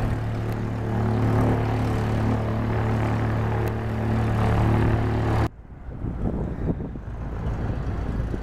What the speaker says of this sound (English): while I'm here filming this Cessna Citation and this Cessna, I'm gonna guess 172.